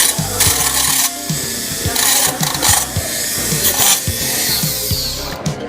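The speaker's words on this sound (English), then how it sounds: "Alright, well that was the Dremel." A handheld Dremel rotary tool runs in short repeated bursts, its high motor whine rising and cutting out every half second or so, loud and close with a rattling, buzzing edge.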